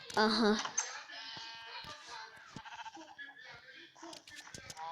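Blocky bleats of a Minecraft goat ring out near the start, loud and layered, then thin out into scattered game noises and clicks under a faint backdrop.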